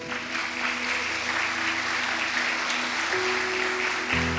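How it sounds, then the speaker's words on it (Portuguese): Congregation applauding during a church service; sustained clapping from the pews over a low hum of room tone and organ-like drones, steady throughout. "Vamos dar uma salva de palmas para o Senhor?"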